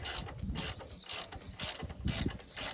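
A ratchet tightens a new ball joint on a Duramax truck, making close, loud bursts of rapid clicking separated by short pauses.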